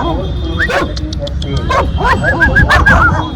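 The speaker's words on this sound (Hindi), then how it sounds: "इस गाड़ी में सिर्फ कुत्ते ही हैं, 3 कुत्ते इस गाड़ी में।" Several dogs bark, yip and whimper inside a car, loud and close, with the overlapping yelps coming in repeated bursts throughout while a person talks over them.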